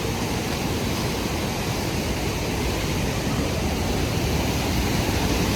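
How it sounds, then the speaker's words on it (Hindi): Fast-flowing river water rushes as a loud, steady, broadband roar, continuous and close, with no voices over it. "तुम पानी का बहाव देख सकते हो कितना तेज है।"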